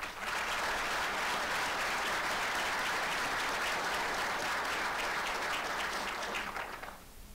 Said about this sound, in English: Please join me in applauding everyone's efforts.